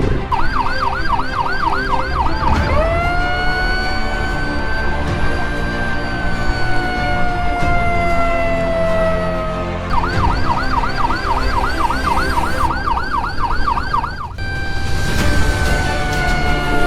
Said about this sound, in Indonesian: Dari sirenenya ini darurat ya guys.